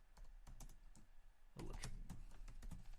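Computer keyboard keys pressed while operating lighting control software, a quick run of close, crisp clicks that grows denser and louder in the second half, with no talking.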